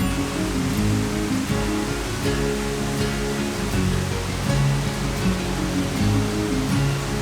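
Waterfalls at Glen Mary pour steadily below a mountain tarn, a loud, continuous broadband rush of falling water close by with no voices.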